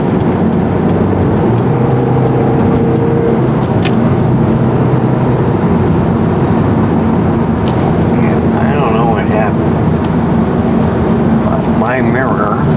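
A car drives along a road, with steady engine and tire noise continuing throughout as other traffic passes nearby; a person talks over the road sound at points.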